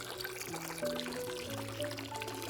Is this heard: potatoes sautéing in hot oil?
no